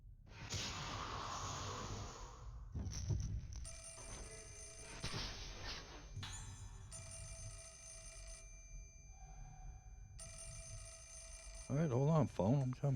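Telephone ringing in the Fatal Frame horror video game, repeated bell bursts between pauses over game ambience, with someone talking in between rings.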